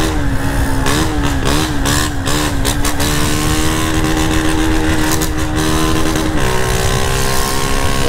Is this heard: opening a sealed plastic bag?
no